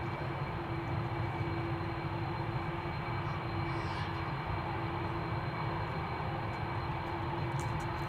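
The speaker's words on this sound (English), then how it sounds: "It's the engines of the A330 that overpower everything over here." Airbus A330 jet engines roaring at Amsterdam Schiphol Airport, a steady, loud, unbroken drone with a constant tonal whine and no talk over it.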